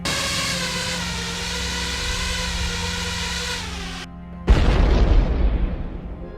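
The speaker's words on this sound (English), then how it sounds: "The first explosion shattered the silence, destroying the boat and causing panic among the other units." An FPV drone hits a boat during a river crossing on the Vovcha, the steady whine cut by a short silence and then a heavy, booming explosion that rumbles and fades.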